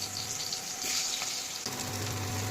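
Potato pieces, pressure-cooked for one whistle, sizzle steadily in hot oil while being fried golden for mutton biryani, a close, continuous crackling fry with a brief stir near the middle.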